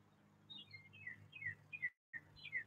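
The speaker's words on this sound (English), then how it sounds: "See if you notice the birds." Birds chirp outdoors in short, bright tweets and whistled calls repeating through the moment, soft and somewhat distant with a low background hum and a brief dropout.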